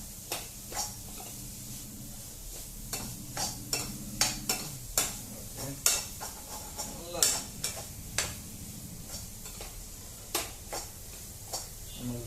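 Egg fried rice stirred in a pan with repeated sharp scrapes and clinks of a utensil along the pan bottom, irregular and close, over a low steady sizzle, with no talk.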